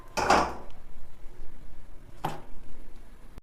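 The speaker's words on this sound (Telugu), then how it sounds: "కళాయి పెట్టుకుంటాం." A metal kadai set down on a kitchen stove while cooking chicken fry: a clattering metallic knock at the start, then a second lighter clank a couple of seconds later in a quiet room.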